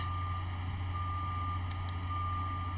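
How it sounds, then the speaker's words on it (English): A truck reversing outside sends a steady electronic beeping tone that repeats at a distance, faint and continuous over a constant low indoor hum. "that is a truck outside if you're hearing that noise"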